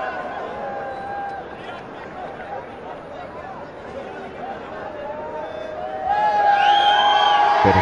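Stadium crowd murmur at an afternoon cricket match in Dubai, a steady broad hubbub of many voices that swells louder near the end with cheering, with commentators talking over it.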